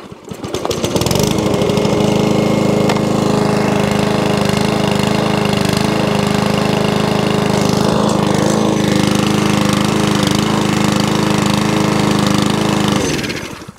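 Petrol lawn mower engine catches and runs steadily at a loud, constant drone close by, with no talk over it; the mower is an old unit from a job lot, needing a carburettor clean and service.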